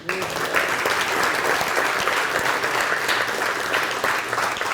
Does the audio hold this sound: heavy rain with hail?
no